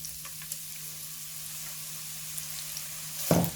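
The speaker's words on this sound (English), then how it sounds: "I've got some oil heating up in this pan. Into that oil, we're gonna add in the onions" Onions dropped into hot oil in a pan for spinach curry, a faint steady hiss of oil with a low hum, then a louder sizzling burst near the end.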